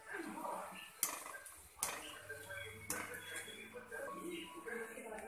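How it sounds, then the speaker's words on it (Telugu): Punugulu fritters turned in a pan of hot frying oil, with a few sharp metallic clinks of the spoon against the pan over a low sizzle, close and fairly quiet, while someone talks throughout. "ఒకసారి ఇట్లా తిప్పుకోవాలి"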